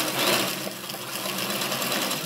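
A sewing machine runs steadily, stitching a seam along the folded edge of fabric for a rabicó, its fast even motor whir and needle chatter close and continuous throughout.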